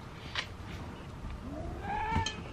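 A pet cat in a home meows once, a drawn-out rising and falling call near the end, fairly close over faint room noise.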